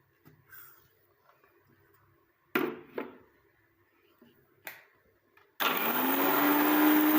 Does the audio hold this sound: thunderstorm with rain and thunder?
no